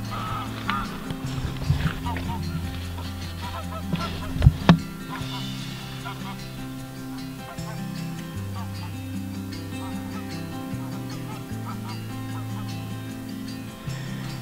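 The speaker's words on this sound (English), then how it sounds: "Got geese coming over constantly." Geese honking as they fly over a Scottish woodland camp in October, a series of honks, some clear and others fainter, over a steady low outdoor background with a voice speaking.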